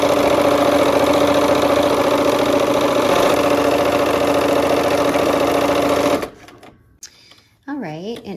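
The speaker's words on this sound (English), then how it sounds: "We're sewing our green strip to the burgundy strip" Sewing machine stitching a green fabric strip to a burgundy strip for a Christmas quilt block, running as a steady, loud mechanical whir for about six seconds, then stopping, with a voice talking softly afterward.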